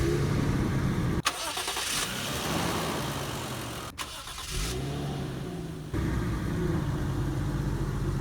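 A Toyota Mark II Grande's engine cranks and fires up, with a sharp starter burst, a revving surge, then settling into a steady mid-pitched idle, close and fairly loud.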